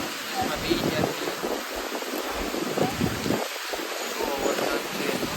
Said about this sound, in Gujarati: બહુ વરસાદ છે.